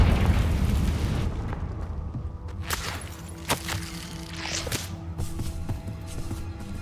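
Confringo spell blasts in Hogwarts Legacy open with a low rumbling burst, followed by sharp cracks, snaps and whooshing hits scattered over several seconds.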